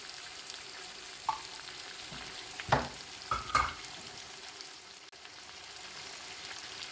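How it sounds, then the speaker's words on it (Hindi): Quiet, steady frying hiss of chicken cooking in a pan with spices, broken by a few brief clinks and scrapes of a utensil. "चिकन को फ्राई होते हुए 5 मिनट हो गए हैं।"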